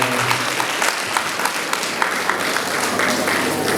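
Guests at a wedding reception give steady, dense applause for the bride and groom's entrance, a continuous wash of clapping with brief accented claps throughout.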